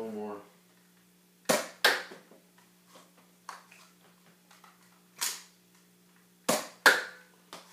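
A Nerf N-Strike Elite Firestrike dart blaster fires darts in sharp, close snapping pops, two quick shots early, a couple of single shots and a final pair, with small mechanical clicks between them in a quiet room.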